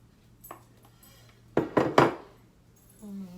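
Sweet potato batter with oil and sugar being stirred in a bowl, heard as a few soft clinks followed by three sharp, close utensil knocks against the bowl and a brief scrape at the end.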